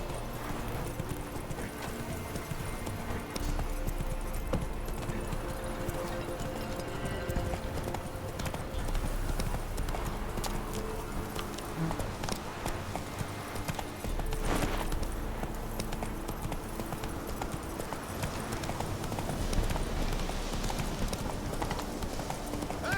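Roach the horse galloping in The Witcher 3, a steady fast clip-clop of hooves running close and continuous, with a brief whinny and faint game ambience underneath.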